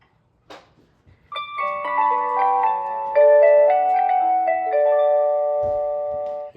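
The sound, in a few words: X-Sense smart mailbox alarm base station alert tone number 2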